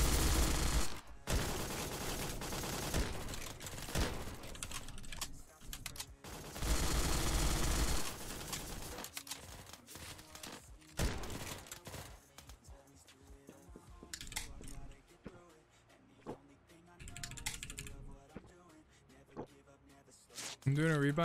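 Bursts of gunfire from the online battle game Surviv.io, loud rapid volleys clustered in the first eight seconds with sparser shots later, while a player talks over the action.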